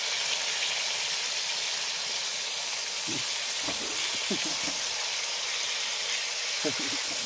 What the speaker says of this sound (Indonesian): Kita goreng dulu hasil buruannya guys.